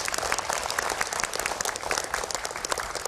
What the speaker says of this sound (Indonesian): Kita berikan tepuk tangan hadirin dan pemirsa.